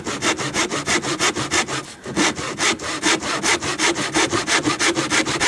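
A handsaw cuts a small piece of light wood trim at a slight angle, with rapid, even back-and-forth strokes up close, one brief pause, then steady sawing again.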